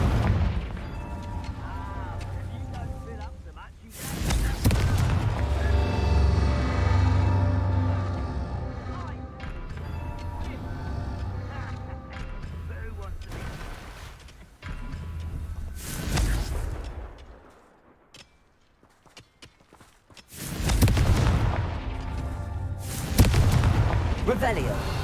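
Confringo fiery blasting spell in the Hogwarts Legacy video game: several heavy booming explosions in bursts, each followed by rumbling decay over a busy combat soundscape, with quiet gaps between blasts.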